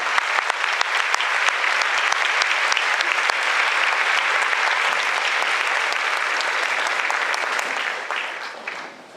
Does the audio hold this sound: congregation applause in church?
yes